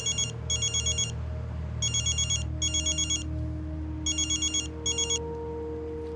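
A telephone rings in repeated double bursts of electronic trilling, several rings in a row at close range over a faint background hum, with no talk.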